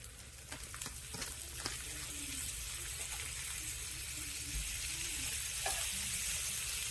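Ghee or butter sizzling steadily in a pan as potato, spinach and paneer patties fry, a continuous close hiss with faint scraping clicks and no talking.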